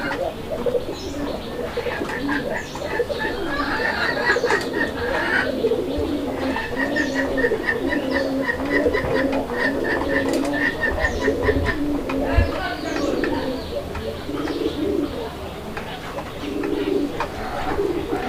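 A pair of Raj-golla pigeons coo repeatedly in a steady rhythmic series, close and fairly loud, with faint background voices and bird chatter.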